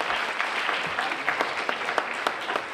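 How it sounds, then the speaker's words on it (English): Audience applauding at an Indian women's pageant in Rockville, Maryland, steady dense clapping from a large indoor crowd, loud and sustained throughout with no talk over it. "please give a big hand of applause to Ms. Nina Bhaskar"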